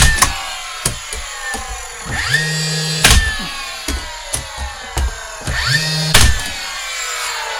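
A nail gun drives nails into trim pieces on wooden shelves, firing sharp, loud cracks one after another in an irregular rhythm. Two short rising compressor or motor whines sound between the shots, and nobody speaks.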